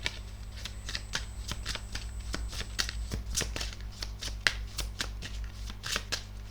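Tarot cards shuffled by hand make a quick series of crisp, close riffling snaps in an irregular rhythm over a low steady hum in a quiet room.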